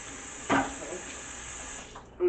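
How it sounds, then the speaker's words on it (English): A chocolate-covered whisk rinsed under a kitchen tap, water running steadily and fairly quietly with a brief louder splash near the start and another at the end. "I need to rinse this really, really quick to get that chocolate off of there."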